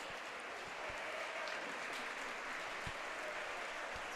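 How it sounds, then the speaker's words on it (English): Steady crowd applause fills a boys basketball game gym, a continuous even wash of clapping heard at moderate distance with a few sharper individual claps standing out. "Nice round of applause in the crowd."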